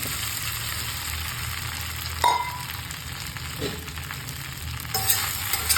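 Vegetable pieces being stirred with sambar masala in a hot pan make a steady low sizzle, broken by a few scraping knocks of the spoon against the pan, close and moderately loud.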